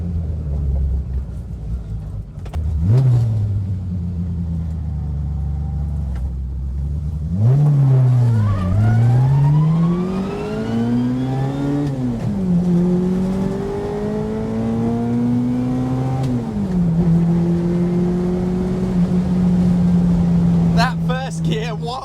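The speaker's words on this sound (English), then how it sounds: "Let's take it through the gears one more time." A Fiat 600 engine runs up through the gears, its revs climbing repeatedly and dropping at each change, loud and close with a steady droning tone.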